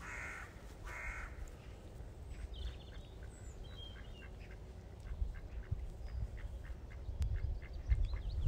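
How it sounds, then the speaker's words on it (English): Ducks quacking and calling outdoors at a pond during a morning feeding, several scattered calls over steady low background noise, with some louder bursts near the end. "I said we should have rehearsed feeding the ducks."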